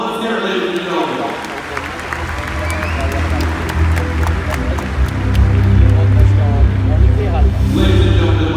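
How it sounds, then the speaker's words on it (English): An audience applauds at an evening event in Dubai for a Binghatti and Jacob & Co residential tower. The clapping crowd swells steadily louder, with voices mixed in. "that deserves a round of applause. Let's hear it, ladies and gentlemen."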